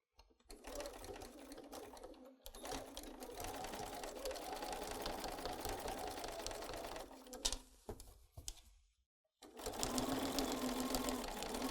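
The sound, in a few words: sewing machine stitching fabric edge of hanging towel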